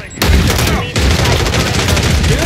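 Loud, rapid bursts of automatic gunfire in the Call of Duty MW3 video game crackle close up in a dense fusillade, broken by a brief gap, with a game voice faintly mixed in.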